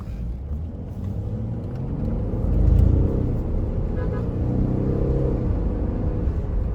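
A Mercedes E280 CDI diesel V6 car accelerating hard from 0 to 180, a deep, steady engine rumble that swells briefly and then holds a strong, continuous drone throughout.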